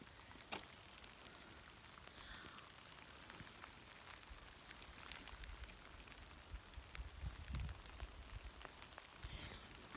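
Hail falling in a pine forest during a walk, heard as a steady dense patter of small impacts with a low wind-like rumble underneath, continuous across the whole stretch with no talk.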